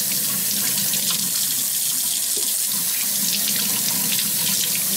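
Tap water runs steadily into a sink as rabbit feet are swished and rinsed under it, a constant close splashing flow with no talk.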